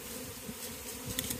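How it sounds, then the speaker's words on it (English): A swarm of honeybees hums in a dense, continuous buzz at close range, faint overall with small flickers of individual wingbeats and no talk. "I'll just brush these bees off, put them in the air."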